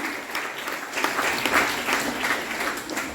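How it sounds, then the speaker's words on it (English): An audience at a secondary school graduation ceremony claps in a sustained, dense round of applause, loud and even throughout with slight swells, and no voices over it. "Let's give them both a round of applause."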